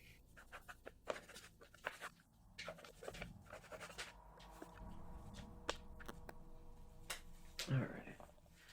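Pen scratching across paper up close, a run of quick taps and strokes followed by a steadier scrawl, quiet and intimate, with a soft voice heard briefly near the end.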